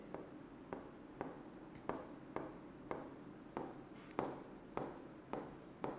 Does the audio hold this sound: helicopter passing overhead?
no